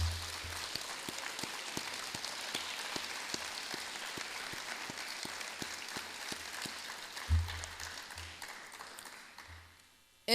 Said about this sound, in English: You may now give a round of applause for all of our junior NHS members.